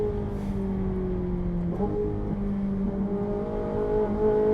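A car engine holds steady, loud revs while drifting around a track at the limit of tyre grip, with the pitch shifting slightly midway as the driver works the throttle, close and continuous throughout.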